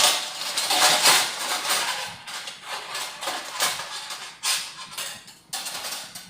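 Metal dental instruments rattle and clatter against a steel dental tray with a removable divider as they are set out, a close, busy run of clinks and scrapes with sharper knocks near the end.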